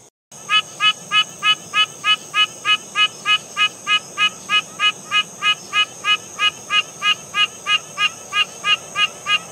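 A Pine Barrens treefrog calls at a hillside seepage in the southeastern US: a loud, close, evenly spaced series of nasal honking notes, roughly two to three per second, over a constant high drone.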